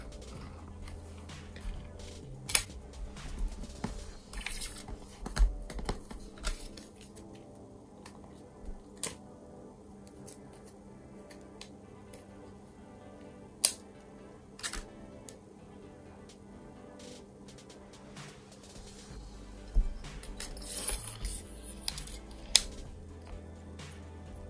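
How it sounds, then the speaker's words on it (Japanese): A SIM card being swapped out of a phone tray gives a series of small plastic clicks and ticks, scattered and close, with quiet pauses between them and no talking. "SIM カードを差し替えます。"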